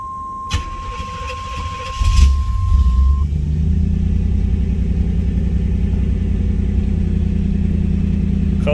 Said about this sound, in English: Cold start, ladies and gentlemen. She fires up every time.